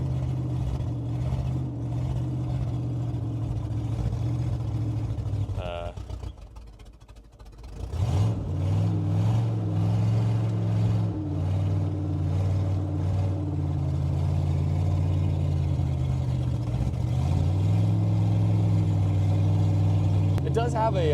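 A 1975 Buick LeSabre convertible engine idles with a low steady drone, dips and falters briefly, then picks back up and holds a rough, uneven rumble, with occasional talk over it.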